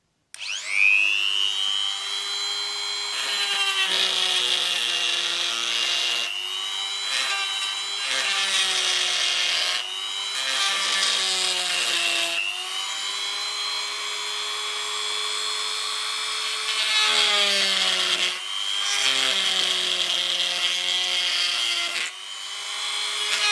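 A homemade rotary tool built from an old lighter cuts through a polypropylene pipe, giving a steady high whining grind that rises and dips as the blade bites in, pausing briefly several times, loud and close with no talk.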